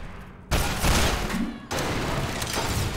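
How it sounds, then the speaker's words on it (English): Dense, continuous gunfire bursts in the video game Entropy Zero 2, loud and close, with a brief lull between two sustained volleys of rapid shots. "Stop shooting Willy!"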